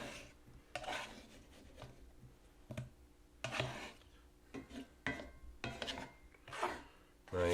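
A utensil scraping the last bits of hashbrown casserole from a big bowl, a series of short rasping scrapes in an irregular rhythm, close and fairly quiet.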